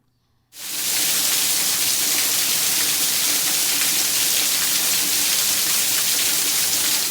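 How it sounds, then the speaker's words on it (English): Torrential rain in Houston pours down in a sudden, steady, dense roar that starts abruptly after a brief quiet moment and continues loud and unbroken to the end. "there was a torrential rain that poured down"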